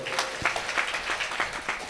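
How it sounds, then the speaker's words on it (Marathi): An audience at a religious discourse gathering breaks into applause, a continuous wash of many hands clapping at moderate loudness, fairly steady throughout. "त्यांच्यासाठी टाळ्या वाजवा."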